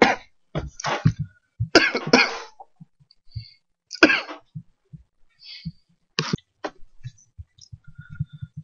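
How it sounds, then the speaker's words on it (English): A person coughs repeatedly in close, harsh bursts, some in quick runs and others spaced apart, with throat-clearing and quiet breaths in the pauses. "Sorry about that, I just started coughing."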